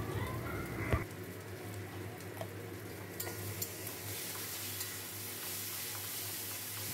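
Spices are stirred in a cooking pan for a Bengali chickpea dish with chilli paste, salt and jaggery, a soft steady sizzle with faint scraping and a sharper knock near the start.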